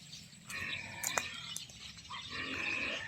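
Pigs at a piggery on a rice farm give low, faint grunts amid scattered bird chirps and outdoor ambience, heard from some distance.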